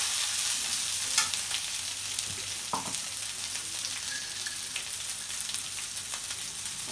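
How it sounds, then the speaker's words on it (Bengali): Chopped onions frying in hot oil, a steady close sizzle with occasional crackles and light stirring clicks, continuous and without any talking. "এই যে দিয়ে দিলাম পেঁয়াজ কুচি। পেঁয়াজটাকে ভাজা করে আমি তারপরে মশলা পাতি দেব।"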